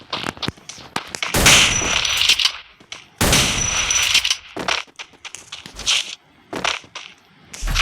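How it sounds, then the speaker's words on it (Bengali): Two-shooter shotgun firing in Free Fire, with a couple of heavy, booming blasts among scattered clicks and clanks, fairly close. "two shooter shotgun"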